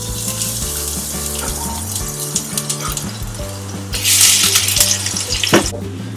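Garlic sizzling in a couple of spoonfuls of picual olive oil in a wok, a steady watery hiss that rises louder and brighter partway through, with tonal background sounds running underneath.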